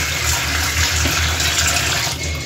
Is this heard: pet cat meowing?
no